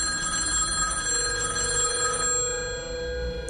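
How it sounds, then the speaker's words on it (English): An old-fashioned telephone's brass bells ring continuously with a bright, metallic clatter, then cut off near the end as a lower tone lingers. "Yet the phone was ringing."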